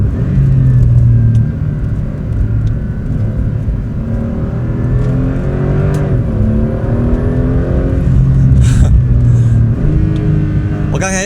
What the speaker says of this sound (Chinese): 哇，你聽到電動馬達的聲音？